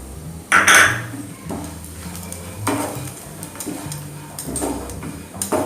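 Dry fruits and grated coconut roast in a pan for dhaniya panjiri, with scraping spoon strokes, clinks against the pan and a light sizzle in short irregular bursts, close by.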